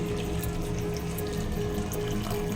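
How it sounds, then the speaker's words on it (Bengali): Hot water poured into a pan of simmering egg and potato curry with cauliflower, a steady continuous pouring wash with a faint tonal ring, close and even throughout. "এবার খালি গরম জল দিয়ে দিলাম"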